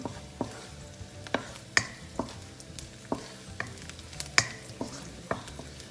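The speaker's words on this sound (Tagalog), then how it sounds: "Igisa natin ang ating bawang." Garlic sautéing in a hot pan, with a low steady sizzle and repeated sharp clacks of a utensil stirring and scraping at a fairly even rhythm, close and clear with no talking.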